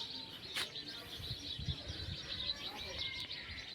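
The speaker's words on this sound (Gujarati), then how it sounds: "આ બાજુ તમે જુઓ ચકલીઓનો અવાજ સાંભળો" Sparrows chirp continuously from trees beside farm fields on a cloudy evening, a steady mass of thin, high twitters at moderate distance, with faint low rumbling underneath.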